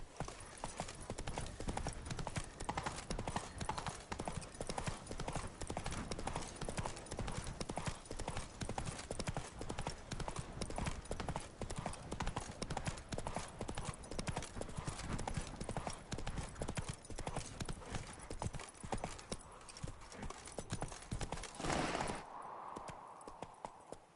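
Roach, Geralt's horse in The Witcher 3, galloping in a fast, steady clip-clop of hooves that runs nearly the whole time before breaking off near the end, with a faint voice briefly heard.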